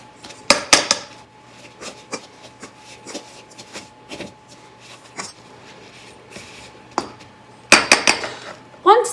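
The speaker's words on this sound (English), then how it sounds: "I'm going to use either a fork or a pastry blender if you have one. This will work a lot easier to cut the butter into the flour mixture." A fork or pastry blender cutting butter into flour for blueberry crumb bars, with scattered scraping taps and clinks against a bowl over a faint steady hum, with clusters of sharper strikes near the end.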